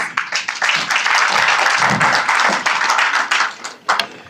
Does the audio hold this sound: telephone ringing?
no